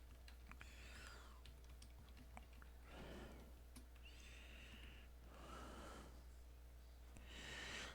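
Faint, irregular clicking of a computer keyboard being typed on, mixed with soft bursts of nearby breathing.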